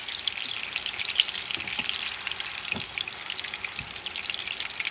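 Meatballs fry in a pan over steady, close sizzling, a dense crackle with small pops and spits scattered through it, with no voices.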